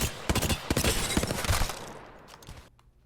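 Rapid bursts of automatic gunfire from SMGs and assault rifles in Apex Legends on console, loud and close, firing in several clustered volleys with short pauses before tapering off.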